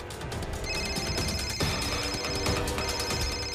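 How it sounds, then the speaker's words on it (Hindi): A telephone rings steadily and fairly loudly over a busy, dense background, with no voices. "नरेश का फोन है"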